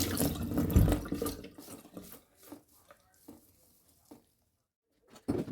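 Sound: water running while washing artichokes

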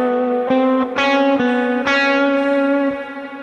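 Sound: guitar through Ampero II with wide reverb effect

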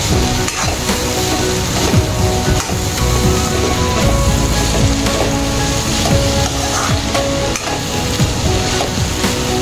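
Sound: onions sautéing in oil

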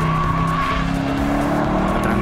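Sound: BMW M850i xDrive Coupe engine and exhaust sound

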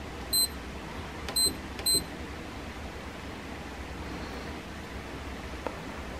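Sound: desk lamp alarm beeping

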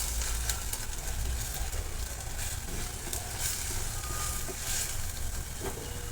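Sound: masala frying in oil for egg curry

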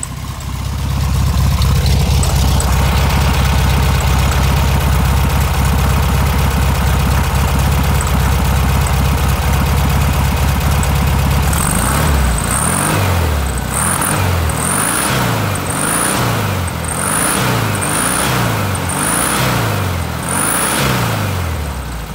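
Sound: 1965 Volkswagen Beetle convertible engine idling

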